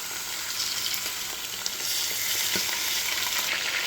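Chicken pieces fry in cooking oil inside a clay pot, giving a continuous loud sizzle and crackle with occasional stirring knocks and no talking.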